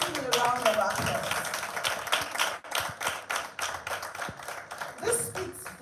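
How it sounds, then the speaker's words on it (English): An audience at an International Women's Day event claps in a round of applause, with sharp individual hand claps over a bed of crowd noise and talking throughout. "Can we all rise and give him a round of applause?"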